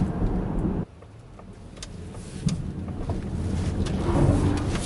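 Electric Ford Mustang Mach-E GT accelerating hard on wet pavement, a steady rushing road and tire-spray noise that swells gradually with a faint high motor whine, no engine roar, heard close with no talking.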